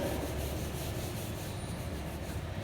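A duster rubs writing off a classroom board, making a steady close scrubbing sound with a rough, even texture throughout and no speech.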